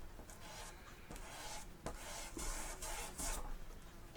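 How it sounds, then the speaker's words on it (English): Paint is rubbed away from a sea painting by hand, a steady dry scrubbing and rasping close up with rhythmic strokes and a few sharper scrapes, with no talk. "I know that the figures won't rub out when I rub the paint away."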